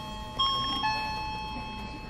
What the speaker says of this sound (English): So this bell can ring